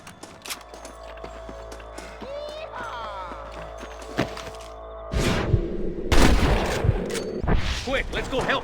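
Scattered gunshots crack in a Red Dead Redemption shootout, sharp reports spread across the clip over mechanical clicks and rattles, growing louder and denser toward the end.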